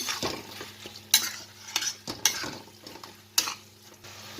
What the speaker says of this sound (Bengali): এটা ভালো করে মিক্স করব তারপরে আমি ঢাকা দেব